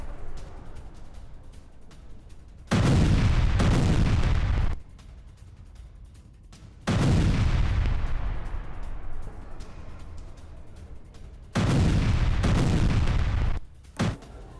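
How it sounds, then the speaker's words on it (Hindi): Explosions and artillery fire strike a Ukrainian base in Toretsk, captured in war news footage: three loud, sustained booming blasts, each lasting about two seconds, separated by quieter rumbling gaps. "जहां विस्फोटक धमाकों में यूक्रेनी बेस कैसे तबाह हुआ देखिए"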